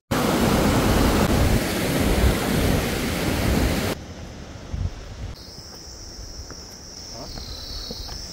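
Wind sweeping over the hills around a village near Hile bazaar gusts into a loud, roaring rush for about four seconds, then drops to a softer, steadier hiss with a faint high whine.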